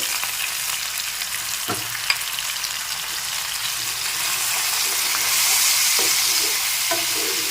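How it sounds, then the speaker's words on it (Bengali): Masala paste with ground spices, salt and a little water frying in a pan for potato curry, a steady close sizzle that grows louder midway, with a few sharp knocks of a spoon stirring against the pan. "সামান্য জল মিশিয়ে একটু নেড়ে চেড়ে মশলাটাকে একটু কষিয়ে নিচ্ছি"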